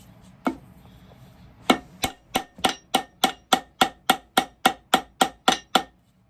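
A hammer taps a shoe during sole repair in a steady, even rhythm: a couple of isolated knocks, then about a dozen sharp, evenly spaced blows, close by.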